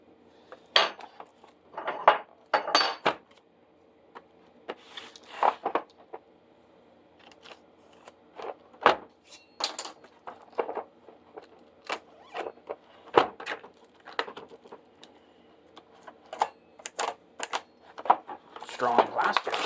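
Snap-on extra deep 4.5-inch sockets being unpacked from strong plastic packaging: a run of sharp, close crinkles, clicks and metallic clinks in irregular bursts, with a voice briefly between them.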